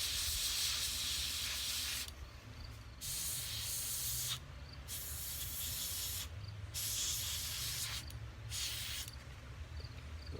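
Pearl white spray paint mists onto a carved Grim Reaper incense holder in a series of close, hissing bursts, roughly five sprays separated by brief pauses.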